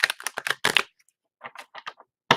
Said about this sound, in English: cut them and then shuffle them.